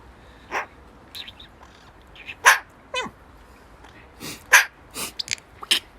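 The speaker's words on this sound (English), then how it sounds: "Sophie's been having a right old bark at me while I've been doing it." A small dog named Sophie lets out a string of sharp, irregular barks close by, some higher and yappy, with light bird chirps and a snort-like sneeze scattered between them.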